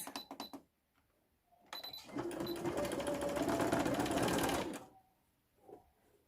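A sewing machine runs a straight stitch through fabric while gathering ruffles, a steady close whirring burst of about two and a half seconds, preceded by short starts and followed by quiet.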